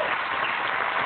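Brief burst of audience applause for an inventor introduced on stage, a dense, steady patter of clapping from a crowd.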